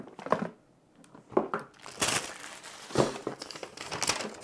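Plastic packaging from a Halloween inflatable pumpkin kit crinkles close by during unboxing, in several irregular bursts of rustling and crackling separated by brief quiet gaps.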